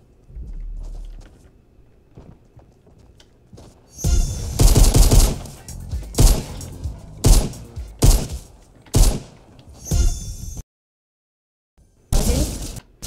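Gunfire in the video game Fortnite: after a quiet start, loud bursts of shots and blasts come in uneven clusters for several seconds, with a short silent gap before a final burst.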